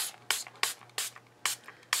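A small spray bottle mists water onto paper in short, sharp hissing bursts, about six close squirts at a quick, uneven pace, with nothing else heard.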